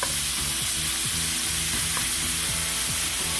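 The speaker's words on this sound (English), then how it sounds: "All at the end, you're gonna see how much oil this bacon makes. I have to leave it here. Let it fry" Pork bacon frying in a pan: a dense, steady crackling sizzle with constant small spattering pops, close and loud, no voices over it.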